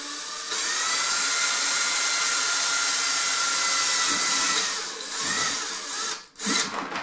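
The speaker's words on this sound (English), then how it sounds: "what I'm drilling through kind of feels like it's a metallized foam core board" A power drill whines steadily, boring through metallized foam core backing board on a Kohler mirror, loud and continuous for several seconds before slowing and stopping with a few brief bursts.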